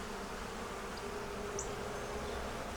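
Honey bees hum steadily inside a hive holding a yellow queen, eggs, brood and stores, a dense continuous buzz at low level with no voices.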